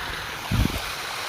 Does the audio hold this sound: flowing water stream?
yes